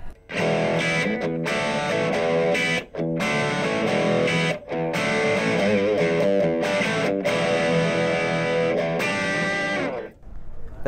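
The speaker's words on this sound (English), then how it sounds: "Okay, so now let's look at some overdriven tones." An overdriven electric guitar through a Blackstar LT Echo 15 amp chugs out distorted chords in bursts, with short choppy gaps between phrases, loud and close with no other sound.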